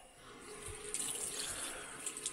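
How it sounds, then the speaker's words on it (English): Cold tap water runs steadily from a faucet to rinse a new Brita filter, a soft continuous splashing stream heard close and alone. "when you do a new filter, it says to rinse with cold water for about 15 seconds"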